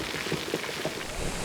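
Artificial rain pours down across a film set, a dense, steady hiss of falling water with no breaks, fairly loud and close throughout.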